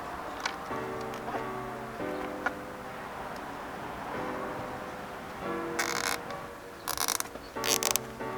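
A plastic zip tie ratchets tight around the piggyback reservoir of a Surron electric dirt bike shock: a few short, rasping clicking bursts near the end over a steady tonal background hum.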